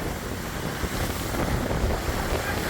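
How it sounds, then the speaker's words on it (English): Hurricane wind buffeting the microphone over high waves surging onto the shore at a Florida pier, a dense, roaring wash of noise, loud and steady with no clear breaks. "We are seeing very high waves crashing here on shore."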